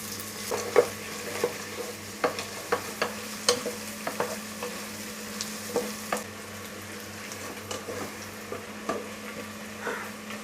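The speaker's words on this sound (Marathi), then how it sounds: "आणि हा कांदा आहे ना तो सोनेरी रंगावर परतून घ्यायचा आहे." Onion fries in masala for a mutton thali, a gentle continuous sizzle punctuated by a steady series of spatula taps and scrapes against the pan, under a low constant hum.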